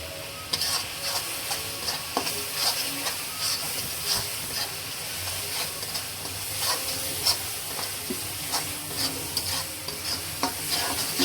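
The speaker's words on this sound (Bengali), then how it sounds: "মশলা কষানো হয়ে গেছে" Bengali-style spice paste of coriander, dried red chili powder and Kashmiri chili powder frying in a pan for a pabda fish bhuna, a steady close sizzle with scraping stirs throughout and no talk.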